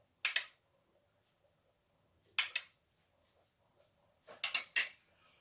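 A spoon clinks against a serving plate while spreading garlic yogurt into a base for manti, giving three separate bursts of short metallic taps, close and fairly quiet, with silence between them.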